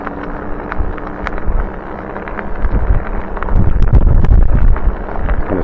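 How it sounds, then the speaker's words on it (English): Studded bicycle tires rolling on a paved road make a steady gritty rattle and buzz that swells louder toward the end, mixed with rushing wind noise on the microphone. "Sound like I got playing cards stuck in my spokes."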